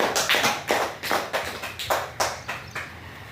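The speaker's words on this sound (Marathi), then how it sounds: "टाळ्या वाजवा तिच्यासाठी." Schoolchildren in a phonics class clap together for a classmate who answered correctly, about eight or nine loud, ragged bursts of applause in quick succession.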